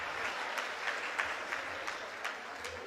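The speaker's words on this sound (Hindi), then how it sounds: "तालियां बजा दीजिए एक बार।" An audience claps at a Hindi comedy or poetry stage show, with steady, moderately distant applause running throughout and no talk over it.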